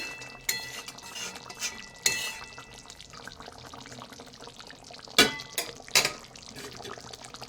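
Stirring magur fish curry with cardamom in a pan: soft scraping and a few louder clinks of a utensil against the metal pan in separate bursts, with quiet kitchen background between them.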